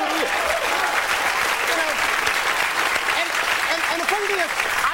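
On The Chris Rock Show, a studio audience gives loud, sustained applause and cheers throughout, with a voice speaking over the crowd.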